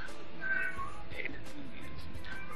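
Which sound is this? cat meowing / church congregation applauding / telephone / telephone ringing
cat meowing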